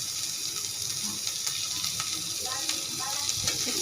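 Dried churi fish (ribbonfish) fries with onion in a hot pan, giving a continuous sizzle with occasional stirring and clinks.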